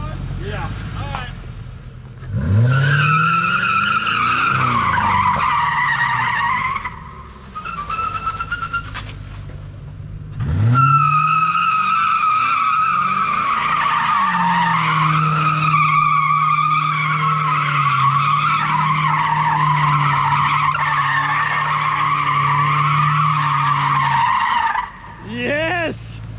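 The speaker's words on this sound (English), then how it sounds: "You're gonna have to put some spin in that tire." A car spins its tire in a burnout, giving a loud, sustained wavering squeal that rises in two long bursts, with a brief break between them.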